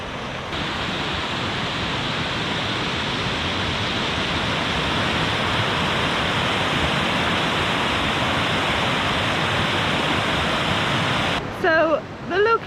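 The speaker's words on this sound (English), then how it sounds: "we're actually right next to the river, which is actually a really nice location" A river next to a campsite in the Czech Republic rushes in a steady, loud broadband roar that fills the whole stretch, with a brief shift near the end.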